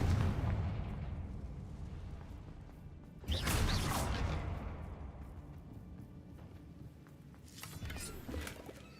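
Fire-spell explosions in a wizard video game burst out in two loud, booming blasts, one mid-clip and one near the end, each trailing off over a steady low rumble.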